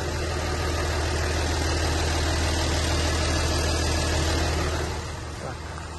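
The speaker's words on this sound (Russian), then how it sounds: "Полноприводная V6 мотор, трехкубовый" A four-wheel-drive car's three-litre V6 diesel engine idles with a steady, low, even rumble close by, easing slightly quieter near the end, with no talking over it.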